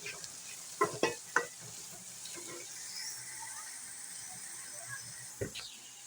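Eggs with green masala being stirred in a hot pan, opening with a few sharp scraping clicks, then a soft, steady sizzle with occasional spoon scrapes.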